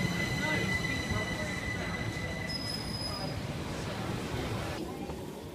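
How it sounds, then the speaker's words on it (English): Riding inside a moving train, a steady low rumble of wheels on rails fills the cabin, with thin high squeals from the wheels and muffled voices and talk over the continuous noise. "So we just got on the train."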